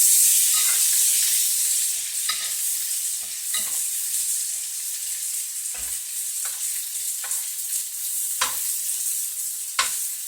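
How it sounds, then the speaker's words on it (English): Royal red shrimp fry in a pan with a bright, constant hiss and sizzle, interrupted by sharp spatula taps and scrapes as the shrimp are turned, close up and with no voices. "Now we can go ahead and start to turn our shrimp here."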